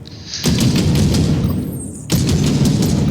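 Heavy gunfire booms in the VR game Warhammer 40,000: Battle Sister during target shooting. Two loud sustained bursts of rapid fire with a brief lull between them sit close and dominant.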